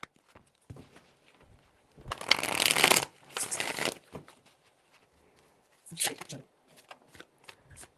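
Tarot cards being shuffled by hand in several bursts, a loud crisp riffle of about two seconds and then shorter flurries, with a voice talking softly between them.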